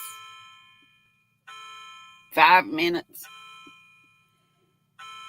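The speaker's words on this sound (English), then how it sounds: "Who knows how many times it'll chime." A clock chimes the hour indoors with clear, ringing bell-like strikes, each about a second long and spaced roughly a second and a half apart. A person speaks briefly between two of the strikes.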